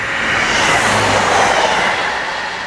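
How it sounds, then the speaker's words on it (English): A train rushes past close by, a loud broad roar that swells and then begins to fade, with no talking. "Here comes the train now"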